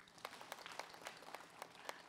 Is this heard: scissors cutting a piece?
no